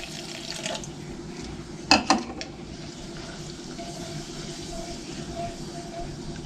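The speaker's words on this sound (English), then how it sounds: "All right, I'm going to pour the water in now." Water gurgles and splashes into a pot for a moment while making chocolate Texas sheet cake, over a steady background hiss of running water.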